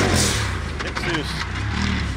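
An off-road UTV engine roars and revs on a dirt track, loud and continuous, with a commentator talking excitedly over it.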